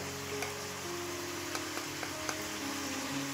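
Shrimp frying in a pan for pumpkin curry as spices go in, giving a steady, quiet sizzle with a few faint ticks and clinks of a spoon against the pan.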